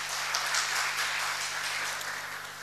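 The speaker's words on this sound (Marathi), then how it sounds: "या महाराष्ट्रासाठी आपल्या सगळ्यांनी खूप टाळ्या वाजवल्या पाहिजेत" Applause from an awards ceremony crowd, a steady wash of clapping held at an even level throughout, somewhat distant.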